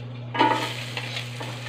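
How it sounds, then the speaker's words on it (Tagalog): Garlic sautés in a hot pan, a close sizzle that starts abruptly and is broken by a few short scraping stirs, with no voices over it. "igisa na po natin ang bawang"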